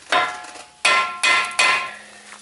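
A rusty brake rotor coated in anti-seize on a Ford Escape is hammered off the hub: four loud, ringing metallic blows close by, one then three in quicker succession, each decaying briefly.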